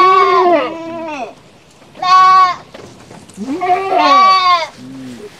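Goats bleat loudly and close by in a goat pen, calling in several separate bursts: two overlapping cries, a single clear bleat, then another layered pair and a short low call at the end.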